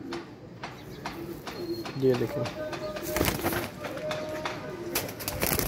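Pet pigeons cooing softly in a loft, low throaty coos repeating under someone talking nearby, with occasional wing flutters and light rustling close to the microphone.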